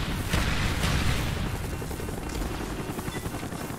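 Helicopter in the Call of Duty Black Ops video game, a loud continuous rotor and engine roar with rumbling booms and gunfire-like bursts mixed in, steady throughout.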